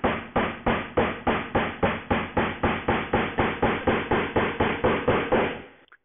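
A hammer drives a nail into the timber side of a gumball machine with about eighteen evenly spaced, sharp knocks in a steady rhythm, close and fairly loud, ending in a quick final tap.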